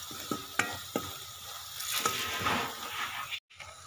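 Chili powder, turmeric and coriander powder being stirred into hot oil in a pan for a mixed dal masala, a steady sizzle with a few sharp spoon scrapes and knocks near the start, then a brief cut to silence near the end.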